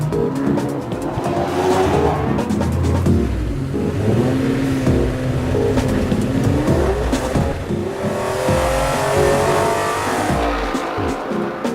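An Aston Martin GT3 race car laps in qualifying, its engine loud and close as it revs up and down through gear changes, with tyre squeal audible through the corners.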